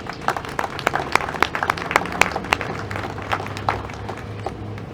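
Scattered applause from a modest audience at the grand opening of the Borough of Hanover Public Administration Facility, uneven individual claps with sharp peaks over a low background hum.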